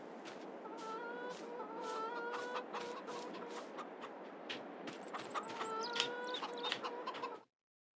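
Chickens in the Farming Simulator 22 video game, a steady chorus of clucking and short squawks from a barn full of hens, continuous and fairly close, ending abruptly.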